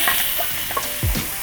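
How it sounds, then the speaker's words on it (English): Fatty beef strips hitting a hot pan for a hoisin beef noodle stir-fry, giving a close, loud sizzle with bursts of spitting and crackle over about a second and a half. "I want to hear that beef as soon as it hits the pan."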